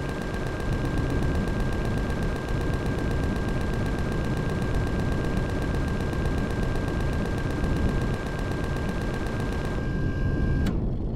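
Sustained automatic gunfire from defensive towers in Empyrion: Galactic Survival, a dense, unbroken rattle of rapid shots that holds loud for the whole stretch and cuts off abruptly near the end.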